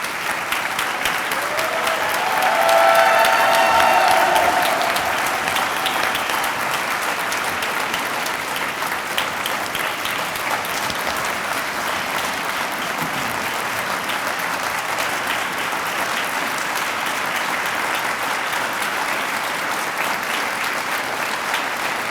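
Sustained audience applause fills an arts awards ceremony hall, swelling briefly near the start and then holding as a steady, dense clapping wash for about twenty seconds, with no voices over it.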